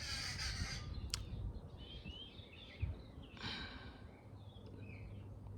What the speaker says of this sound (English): these things, man, they're just making noise. These freaking birds.